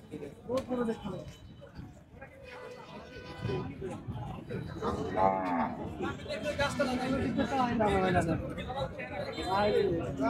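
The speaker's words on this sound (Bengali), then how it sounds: "প্রচন্ড পরিমাণে ষাঁড় গরু ঢুকছে দেখতে পাচ্ছি" Cattle, including bulls, moo repeatedly amid a busy crowd at the Tepakhola cattle market in Faridpur, with people chattering and calling nearby throughout.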